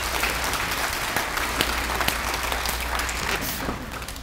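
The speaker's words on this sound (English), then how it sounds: "A big over the head clap for our superintendent, Dr. Denton Santarelli." Schoolchildren at an elementary school dedication ceremony clap over their heads, a loud, sustained burst of crowd applause with no one speaking.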